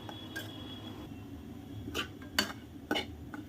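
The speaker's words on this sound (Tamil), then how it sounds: "நல்லா கைவிடாமல் அடி பிடிச்சிடாமல் கிளறிக்கிட்டே விட்டுருங்க" Bread halwa is stirred in a pan, quiet scraping and a few sharp metallic taps of a spoon against the pan over a soft low sizzle, close and intermittent.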